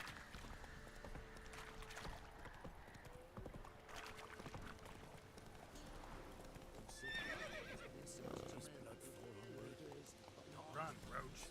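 Roach the horse in The Witcher 3 video game, galloping with steady clip-clop hoofbeats and letting out neighs, all at low level beneath someone talking over the gameplay.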